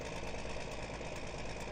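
A tractor engine idles steadily in Farming Simulator 2017, giving a constant low mechanical drone with a faint knocking pulse, even and unbroken throughout.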